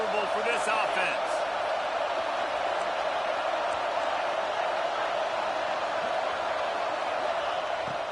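Steady roar of a stadium crowd at a college football game, loud and continuous throughout with a broad wash of cheering and a few brief louder bursts near the start.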